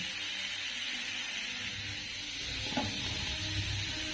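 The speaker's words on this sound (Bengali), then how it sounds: "তো এগুলোকে ভালো করে নেড়ে নেড়ে সুন্দর করে আগে ডাড়াগুলোকে ভেজে নিতে হবে" Crab claws fry in a pan for a capsicum crab dish, a steady close sizzle running throughout with a few scraping stir sounds partway through.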